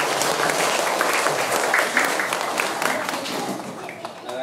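Audience applauding at a small Buddhist education gathering in a village, a dense, steady wash of many hands clapping close by for several seconds, easing slightly toward the end.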